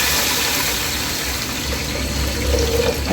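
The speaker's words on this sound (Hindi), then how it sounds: "अब इसमें हम पानी ऐड करते हैं।" Water poured into a cooking pan holding browned onions and whole chillies while khichdi is being prepared, a steady rushing pour lasting about three seconds, close and fairly loud with no talking.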